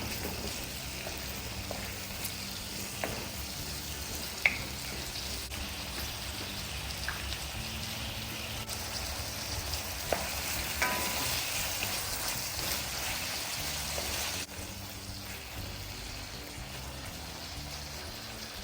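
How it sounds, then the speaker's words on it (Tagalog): Tomatoes sauté in a frying pan for a Filipino kinamatisang dilis dish, giving a steady close sizzle and crackle with occasional stirring clinks throughout, no talking. "Gigisahin ko din lamang arin ng bahagya hanggang sa kumatas ng kaunti dine aring ating kamatis."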